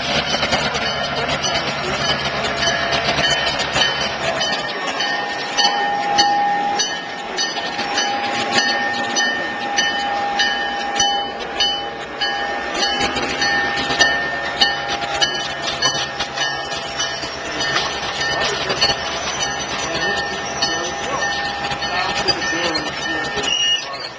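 Diesel locomotives built in 1951 and 1952 pull a train in a parade, a steady engine drone with rail squeals, clanks and clickety-clack running throughout, with people talking nearby.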